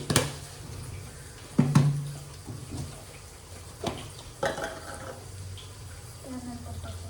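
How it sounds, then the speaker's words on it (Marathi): A spoon scrapes and clanks in a pan while coriander powder is stirred into a bitter gourd masala with onion, garlic, turmeric and chillies. A few sharp metallic knocks stand out over a low, soft stirring background. "त्यानंतर टाकते धने पावडर. चांगलं फिरवून घ्यायचं."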